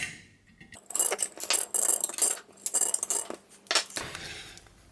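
Cutters snip the leads of soldered electronic components in a rapid series of sharp metallic clicks and snaps, close up and separated by brief pauses.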